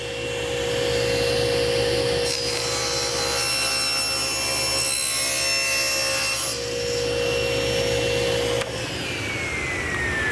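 A table saw with its motor steadily running cuts a wooden board at a miter, giving a loud, continuous whine and a high tone that stays level for about ten seconds, with no talking.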